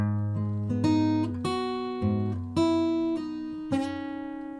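An acoustic guitar slowly plays measure 79 of a song arrangement, about seven plucked notes and pull-offs ringing out one after another, close and clear with no talk.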